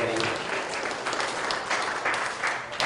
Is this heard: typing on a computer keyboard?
no